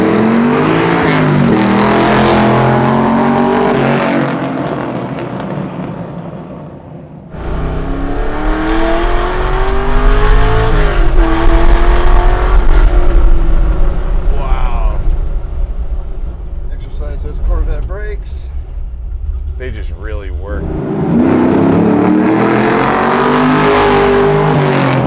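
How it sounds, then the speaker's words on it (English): A 600hp custom Chevy C10 pro-touring truck's exhaust rumbles loud and close, with rising revs and deep sustained engine roar, while people talk over parts of it. "The exhaust really does sound good."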